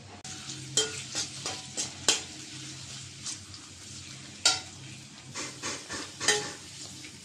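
Chopped onion and spice paste fry in hot oil with a steady low sizzle, broken by a series of sharp spoon scrapes and clinks against the pan.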